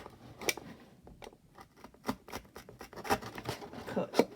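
A sharp blade cuts small holes into a cardboard carton for a nest box, producing close, uneven scraping snips and crackles in short bursts with brief gaps between them.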